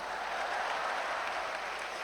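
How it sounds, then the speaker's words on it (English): Sustained applause fills the room at a national women's conference, a dense, even clapping from the audience that holds steady at moderate loudness for the whole stretch, with no voices over it. "you should clap for me"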